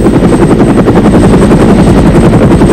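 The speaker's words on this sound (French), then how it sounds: "On fait également un essai avec le Sikorsky S-55 équipé de roquettes." A Sikorsky S-55 helicopter armed with rockets drones loudly and continuously, its rotor beating a rapid, even thump over the engine's heavy roar, close and unbroken throughout.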